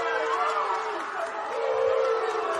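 A crowd at an under-16 junior rugby league grand final roars and jeers over a penalty, a continuous, distant wall of voices that swells and falls for a few seconds.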